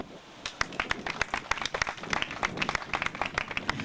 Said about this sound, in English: Let's give Bakari a round of applause.